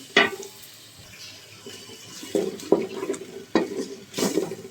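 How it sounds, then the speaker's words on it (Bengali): Soaked lentils are stir-fried in a pan, with several sharp spatula scrapes and wet clatters at uneven intervals over a soft sizzle, close and fairly loud. "এবার দিয়ে দিব ভিজিয়ে রাখা ডালটা ডালটা একটু কষিয়ে দিব"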